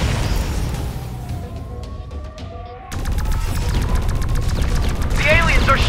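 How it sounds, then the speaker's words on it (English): Aliens firing weapons in the XMorph Defense game: a dense stream of rapid, repeated shots and bursts under continuous game noise, with a short quieter gap before the firing resumes, louder than before, and spoken lines over it. "The aliens are shooting at us!"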